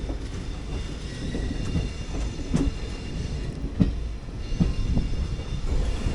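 A train rolls into SMBB Bengaluru station, seen from an AC 3-tier coach of the 06576 Palakkad–Bengaluru summer special: a continuous rumble with periodic wheel clicks over rail joints and occasional faint squeals, no talking.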